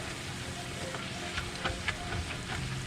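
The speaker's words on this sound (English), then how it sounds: "So now we've deglazed it. Let it sit there and simmer, start scraping off some of those nice little bits on the bottom." Wine simmers in a pan while fish bits are deglazed from the bottom, a soft steady bubbling hiss with faint irregular pops and light scraping ticks, fairly quiet and close.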